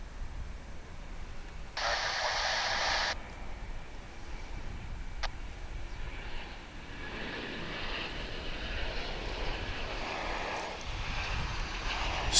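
An airliner arriving from Salt Lake City at DFW International Airport: a loud jet roar bursts in early, then a broad, steady engine rumble carries on through the rest of the span, with wind-like hiss.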